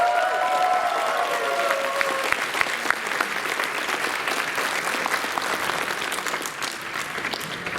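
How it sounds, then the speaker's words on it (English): Convention audience at a closing ceremony applauds for a donor, a sustained wave of clapping from a large crowd filling the room, with a few whistles or cheers early on and the applause gradually thinning near the end. "So, secondary big round of applause for Brius."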